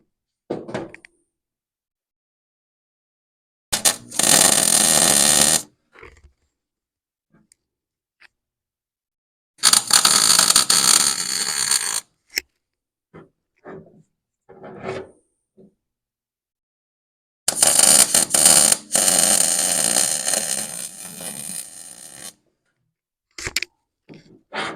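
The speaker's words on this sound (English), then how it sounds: "So we're gonna get weld there, and then we'll continue on." Welding on the front brakes of a belly tank racer in a workshop, three bursts of crackling, buzzing arc lasting a couple of seconds each, separated by silence and scattered small clicks and knocks.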